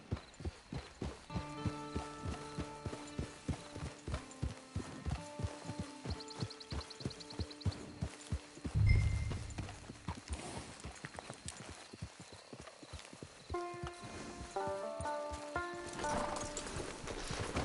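Rhythmic hooves clip-clop steadily in Red Dead Redemption Online, a horse snorts loudly midway, then a whinny rises near the end over soft tonal music.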